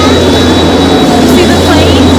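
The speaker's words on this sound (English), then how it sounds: "See the plane?" Steady engine roar inside a private jet during hospital transport, a continuous loud hum with a high whine, with people talking over it.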